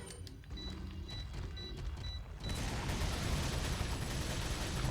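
Gunfire in the Resident Evil 4 video game, a rapid burst of shots that swells into a dense, loud barrage over the second half, with no talk.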